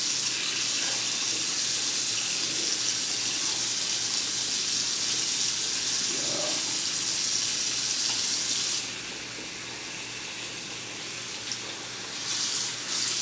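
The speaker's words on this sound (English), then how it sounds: "all I'm doing here is rinsing off the leaves, and the extra dye will come off" Tap water running steadily over dyed leaves in a sink, a constant close hissing gush that eases slightly partway through as the flow shifts.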